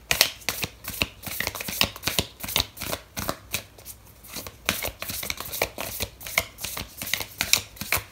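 Oracle cards shuffled by hand for a tarot reading, a quiet, rapid riffling patter in repeated bursts with brief pauses between them.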